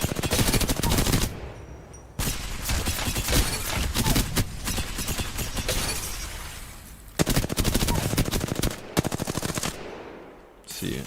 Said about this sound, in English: if you just make your shots last a little bit longer with the R301, you don't spam them